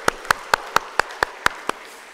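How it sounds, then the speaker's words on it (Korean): A church congregation at a Sunday service claps in unison, giving glory to God. There are eight sharp, evenly spaced claps, each one clear and crisp, set against a quiet room with no talking. "우리 하나님께 영광의 박수 올려드릴게요."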